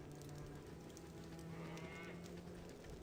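Farm cows in the Baldur's Gate Enhanced Edition video game give low, drawn-out moos that blend with a constant, dense background of game ambience throughout. The overall level is very quiet.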